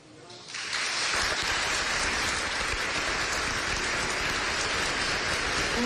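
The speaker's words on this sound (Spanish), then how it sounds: "Un fuerte aplauso" Audience applause at a digital agenda launch event swells in after a brief quiet start and holds as a dense, even roar of many hands, like heavy rain, with no clear speech.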